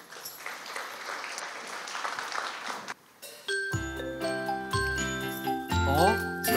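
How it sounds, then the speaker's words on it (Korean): Church congregation applause fills the first three seconds with dense, moderately loud clapping, then cuts to bright tinkling chimes and ringing bell tones that continue to the end. "박수로 맞아주세요"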